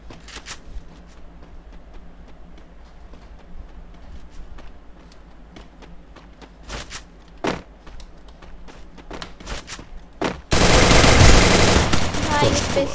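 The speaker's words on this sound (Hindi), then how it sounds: "भाई गन साउंड आ रहा था बट वो नहीं दिख रहा था" Bursts of gunfire in a custom 1v1 mobile shooter match: scattered sharp shots through the first ten seconds, then a loud, dense, sustained volley close up at the end, with brief talk in places.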